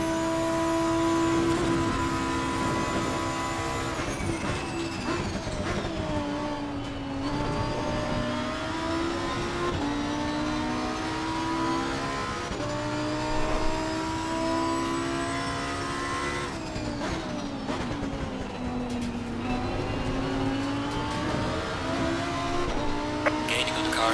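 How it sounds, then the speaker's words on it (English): A Mercedes AMG GT3 race car in Assetto Corsa Competizione climbs Mount Panorama, its engine droning and rising through the gears in steady upshift sweeps while someone talks over it. "That AMG is great up the hill, up the mountain."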